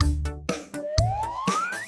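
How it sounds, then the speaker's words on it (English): A police car siren rises in a single smooth upward wail, loud and close, over rhythmic pulsing electronic music beats. "P is for police car."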